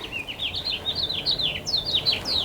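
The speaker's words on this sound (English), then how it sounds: "Oh yeah, tell us all about it, Mr. Bird." A songbird sings in springtime, pouring out a continuous run of rapid, warbling high notes, fairly close and clear, over a low steady outdoor hum with no voices.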